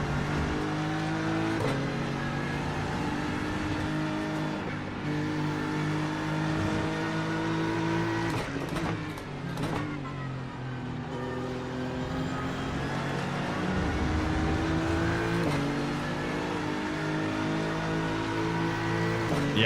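GT3 race cars roar in the iRacing simulator, the engine notes loud and close, rising and dropping with gear changes and passing cars over a continuous drone.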